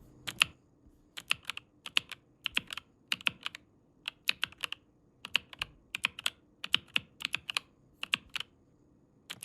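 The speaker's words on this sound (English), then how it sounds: "we have this ASMR video of somebody clicking a keyboard made of candy." A keyboard made of candy is clicked in quick clusters of crisp, sharp taps separated by brief pauses, close and clear over a quiet background.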